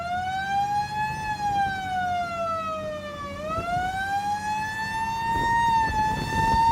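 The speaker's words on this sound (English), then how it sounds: "Love that siren." A classic California Highway Patrol car's wailing siren rises and falls in long sweeps, loud and steady, with the vehicle rumbling underneath on a freeway.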